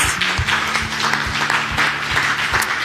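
Church congregation at an evangelical service in Tangier applauding vigorously, fast dense clapping with cheers and raised voices layered over a low steady tone, loud and continuous throughout.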